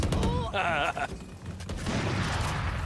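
Swarm grenade bursts in Valorant, loud crackling blasts and mechanical pops packed into a few seconds, heavy and close, with game voice lines layered over the chaos.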